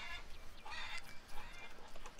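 Chickens cluck softly and repeatedly inside a wood-glazed coop in the farming game Farmer's Dynasty, scattered bursts of hen sounds over a low, faint background.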